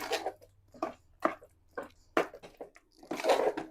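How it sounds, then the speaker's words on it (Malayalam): A fish and raw banana curry with added water is stirred in a pot. Wet squelching strokes come in a steady rhythm, close and fairly soft, with no talking. "ഇതിന് നല്ലോണം ഇളക്കി കൊടുക്കാം കേട്ടോ."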